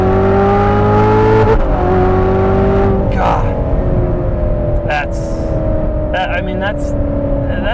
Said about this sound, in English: the engine going up, down, that's one of the great treats